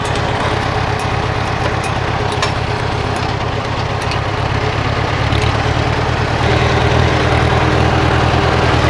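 A Farmall tractor fitted with an M&W 9-speed transmission runs in first gear, its engine a steady, loud, low-pitched rumble close by with no talk.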